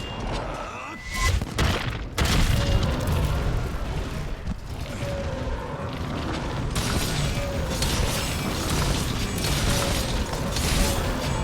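Brachydios in Monster Hunter setting off explosions, a few sharp bursts and booms early on, then a dense, rumbling, crackling game soundscape that continues at a steady level.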